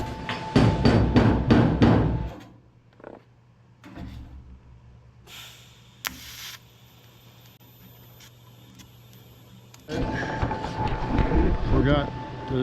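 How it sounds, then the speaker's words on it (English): Hammer blows on welded sheet metal being knocked back into shape, a quick series of loud metallic strikes followed by quieter taps and shop noise, then more hammering near the end. "hammer that back out"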